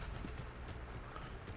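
Horse hooves clip-clop at a steady galloping pace in the video game Red Dead Redemption 2, a faint, low thudding rhythm under a soft background hum.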